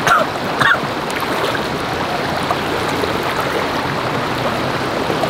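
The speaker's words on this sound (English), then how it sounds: "and there is the river." River flowing past a glamping campsite in Ulu Yam, a steady broadband rushing of water heard close and loud throughout, with a brief knock near the start.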